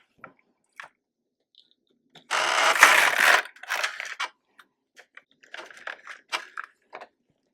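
LK 150 knitting machine carriage pushed across one row, a close rattling, clicking sweep lasting about a second, followed by scattered small ticks and clacks.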